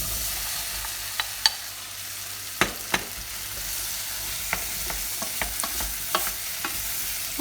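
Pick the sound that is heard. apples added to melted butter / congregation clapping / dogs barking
apples added to melted butter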